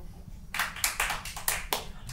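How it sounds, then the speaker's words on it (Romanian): A live studio audience at a Romanian hangout talk show bursts into a short round of applause, sharp claps starting after a quiet half second and continuing briskly to the end. "Haideți prin aplauze voi."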